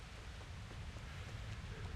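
A steady hiss of rain falls in the medieval world of Kingdom Come: Deliverance, faint and even throughout with no talk.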